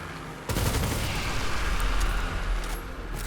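Rapid gunfire from a gun perk in a video game, a dense continuous stream of loud shots that starts abruptly and keeps going without pause, no talking over it.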